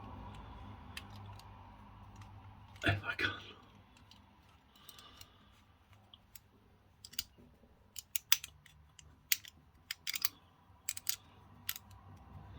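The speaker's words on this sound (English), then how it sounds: "Are you ready for one of the most satisfying sounds of a razor?" A Supermax Diamond Edge razor blade in a La Creatura razor shaving over Sacre Blue soap, heard as a crisp, irregular series of scratchy rasps and snaps held close to the microphone, with a brief spoken remark near the start.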